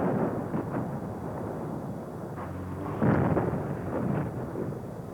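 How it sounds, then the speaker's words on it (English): Artillery shells pound Grozny's presidential palace, heard as a series of muffled, rumbling booms at irregular intervals, a few somewhat heavier than others, rolling over a constant low background roar. "there's a massive artillery bombardment of the building going on right now"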